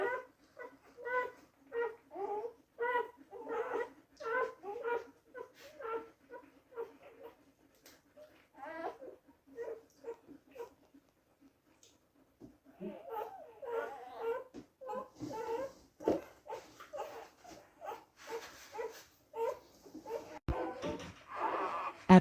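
Newborn puppies whimpering in a series of thin, high, rhythmic cries close by, pausing briefly, then resuming alongside soft human speech.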